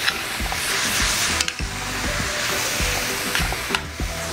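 Potatoes and sweet potatoes sizzle loudly and steadily in a hot pan, a dense crackling fry with a couple of sharp clinks from stirring.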